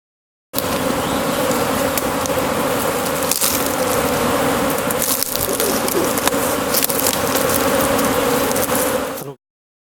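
Honeybees swarm around spring apiary hives, including a colony of regional black bees, making a dense, steady droning buzz that stays close and loud without pause for nearly ten seconds.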